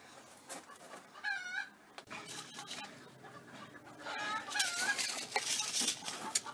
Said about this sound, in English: The chickens are having a bit of a furrow out the back there.